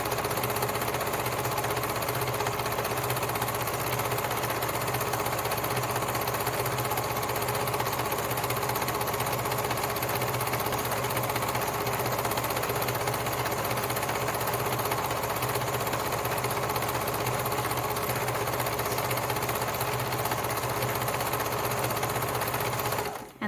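A sewing machine stitches a seam on a holiday stocking, its steady motor whirring without a break, close and loud, with no pauses and no voices.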